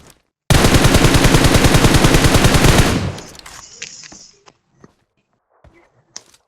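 Sustained rapid automatic gunfire from a BGMI mobile battle royale match, a loud dense burst lasting over two seconds, then tapering into scattered quieter clicks and thumps.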